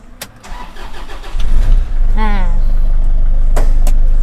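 A 2005 Toyota Vigo single-cab pickup's 2.5-litre diesel engine cranks and starts, then settles into a steady, rumbling idle. A voice speaks briefly over the engine noise.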